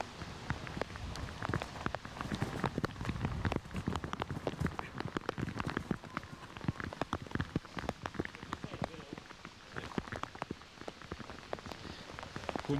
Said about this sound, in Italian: adesso ricomincia a piovere forte